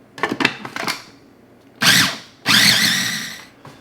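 A food processor grinds young chicken breast with salt and pepper: a few short rattling pulses, then two sustained loud whirring bursts with a rising motor whine, close up and without talk.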